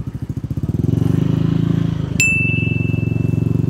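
A 2005 motorcycle with an aftermarket exhaust pipe idles with a fast, loud, throbbing putter, then revs and holds a steady high drone, with a brief sharp metallic ping partway through.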